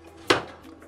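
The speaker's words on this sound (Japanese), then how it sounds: "ジャガイモを切りますよと。" A knife chops through a potato on a cutting board in a kitchen, a single sharp close knock followed by a short fading thud, alone with no talk.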